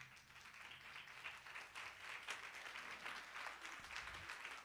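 A church congregation applauds during a sermon, a steady wash of many hands clapping at moderate distance, fairly faint and continuous throughout, with a low hum underneath.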